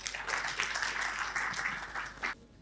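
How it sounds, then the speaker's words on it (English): An audience claps for a panel at a family office summit, a brisk burst of applause lasting a couple of seconds before it cuts off abruptly. "Please, a big round of applause for the panel."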